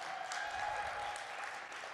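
An audience applauds a panelist being introduced on stage at a leadership panel event, a faint, steady patter of clapping that lasts the full two seconds.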